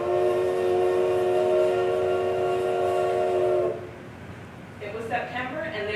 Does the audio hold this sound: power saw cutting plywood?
no